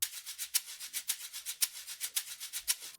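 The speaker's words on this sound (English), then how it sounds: "So it's a shaker loop like this." A steady, fast shaker loop with bright, hissy strokes in an even rhythm, accents falling on regular beats, played alone at moderate volume.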